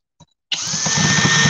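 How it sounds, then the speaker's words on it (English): A cordless drill driver bores into a store shelf at a Lowe's hardware store: a faint click, then a sudden loud, steady motor whine that holds to the end, close up. "See, it's hard because you can't tell what you're drilling into."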